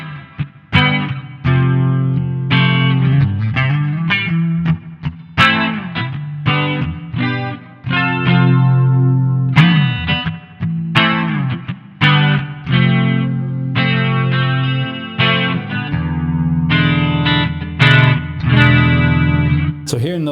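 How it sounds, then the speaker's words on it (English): An electric guitar runs through an all-analog Gokko Super Chorus stereo pedal into a Marshall channel, giving a lush, driven chorused tone as chords and picked phrases ring out loudly in repeated bursts with short pauses. "it's a big lush sounding chorus, but it never gets cheesy"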